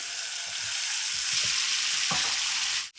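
Salmon frying in butter in a very hot pan, a dense continuous sizzle up close with a few soft scrapes and knocks, no talking.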